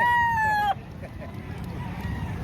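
A large rooster crows loudly and close at a poultry market in Padre Garcia, Batangas, its strained call ending abruptly, followed by quieter background noise and faint rustling.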